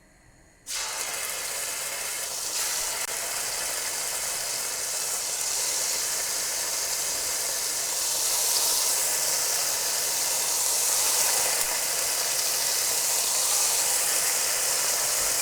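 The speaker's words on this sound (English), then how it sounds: "Make sure it's nice and hot because what I want is like a sizzle" Chicken sizzles in a hot flat pan, a steady loud hiss and broad crackling wash that holds throughout and swells slightly toward the end, with no talking.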